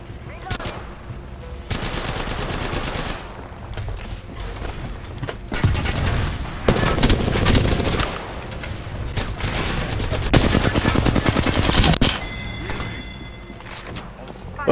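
Rapid automatic gunfire and explosive thumps from an Apex Legends firefight roar almost continuously in dense bursts, with a voice talking partly underneath.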